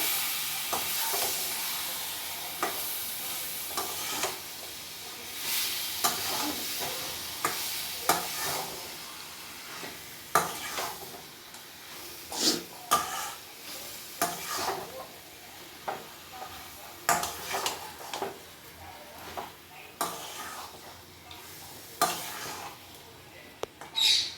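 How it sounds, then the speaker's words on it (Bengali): Meat is stirred and fried with spices in a pan, a steady close sizzle broken by repeated scraping strokes of a spatula, with no voices. "এরপর মাংসগুলো দিয়ে দেবো। এবার ভালোভাবে কষাতে থাকবো।"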